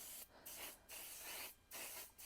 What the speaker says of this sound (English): I use this basting spray.